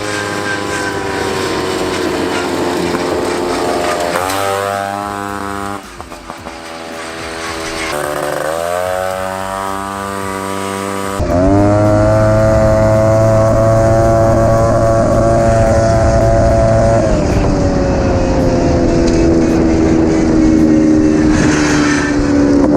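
A high-pitched two-stroke engine on a 1979 Honda Odyssey FL250 with an aftermarket DG exhaust pipe drones and revs steadily, rising and dipping in pitch, loud and close, with a buzzing exhaust note.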